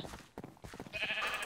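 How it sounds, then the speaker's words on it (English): Sheep bleating in a video game, a few short bleats over quiet game sounds, then a brighter tonal game effect near the end. "Come on, sheep. Come on. Come to me."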